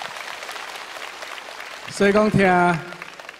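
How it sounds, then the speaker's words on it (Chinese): An audience applauds at a concert of old popular songs sung by elderly original singers, a dense, steady patter of clapping that thins as a voice begins speaking over it near the end. "爱给我拍手啊！"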